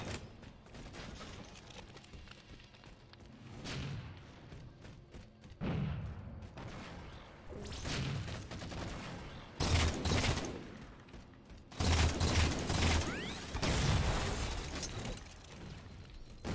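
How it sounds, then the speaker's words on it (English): Battle rifle fire in Halo: The Master Chief Collection, bursts of shots and impacts spaced through a long firefight with quieter gaps between, fairly distant and mixed with mechanical game sounds. "let's get this battle rifle going"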